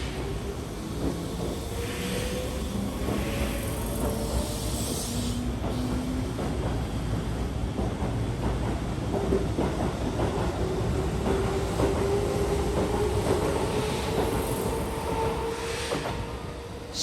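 A train rolls through Hirakatashi Station on the Keihan line in Japan, steady wheel rumble and rhythmic clacking with a long rising squeal of wheels on rails, no voices.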